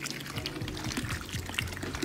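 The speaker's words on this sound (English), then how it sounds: "Pour a whole container in there." Zatarain's crab boil seasoning poured into a pot for a crawfish boil, giving a soft, continuous liquid splashing and trickling at close range with a few small bumps.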